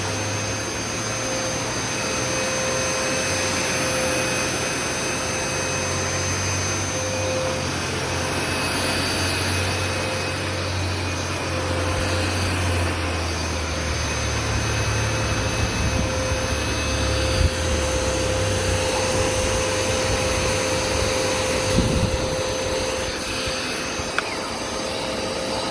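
A Hoover Smartwash carpet cleaner, just repaired, runs in dry-only mode with a steady, loud motor drone and suction whine that holds without a break, no voices over it.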